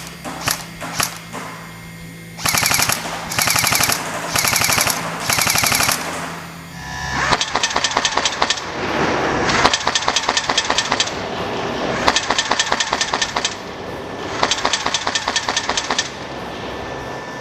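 Rapid bursts of simulated gunfire from a G&G Top Tech T4-18 HK416 airsoft rifle's electronic sound effect, several loud rattling volleys in a row with brief gaps between them, no talking.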